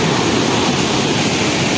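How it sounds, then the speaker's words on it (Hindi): Floodwater rushes over a culvert in a steady, loud, broadband roar, close and continuous. "इधर से पूरे कितना खतरनाक पानी आया है इस बार, पूरी पुलिया पानी से भरा गई है।"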